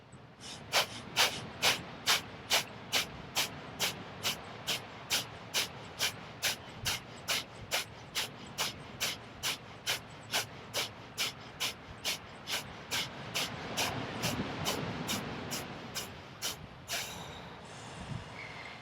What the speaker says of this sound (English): you complete with that breathing out all your air